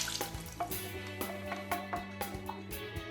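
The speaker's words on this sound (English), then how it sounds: "I probably shouldn't talk while the faucet's going." Water runs steadily from a faucet into a sink, a continuous close wash with soft splashing and faint clinks layered over a low hum, no voices.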